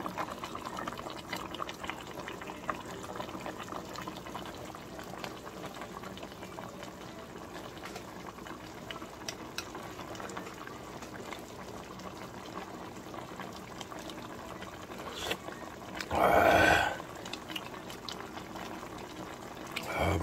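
A mackerel and radish braise with green onion simmers in a pot as a soft, continuous bubbling, low and close, with a brief louder burst near the end.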